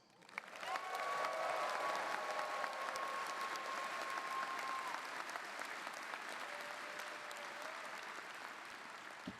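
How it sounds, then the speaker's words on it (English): A commencement audience at a doctoral and MFA graduation ceremony applauds the graduates, a broad, steady wash of clapping from a large crowd that holds for several seconds and eases slightly toward the end. "who thinks the graduates deserve applause?"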